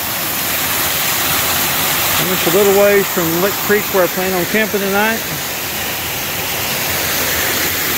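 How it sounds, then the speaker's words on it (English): Bear Skull Falls, a waterfall just off the Ozark Highlands Trail, gives a steady broadband rush throughout while someone talks over it in the middle. "This is Bear Skull Falls."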